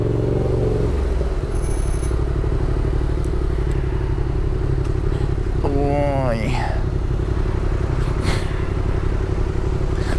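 A motorcycle engine idles steadily and loudly throughout, with a rattle and a brief clatter midway; a voice speaks over it.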